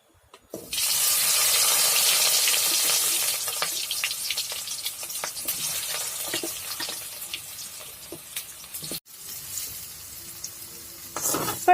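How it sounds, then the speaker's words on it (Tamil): Marinated cauliflower going into shallow oil: a strong sizzle bursts up as the pieces hit the pan, then settles into a quieter crackle, with occasional utensil clicks and a sharp knock near the end. "இப்போ நாம இதை ஃப்ரை பண்ணி விட்டுக்கிட்டே இருக்க போறோம்."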